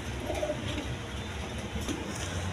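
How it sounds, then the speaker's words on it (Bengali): A pair of pigeons coos quietly nearby, soft low calls repeating briefly over a dull background hum. "বন্ধুগণ এখানে এক পেয়ার কবুতর আছে"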